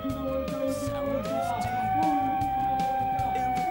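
A siren sounds the final lap of a cycling grand prix in Salto, Buenos Aires. Its loud, sustained wail bends upward and then holds, over a low rumbling background.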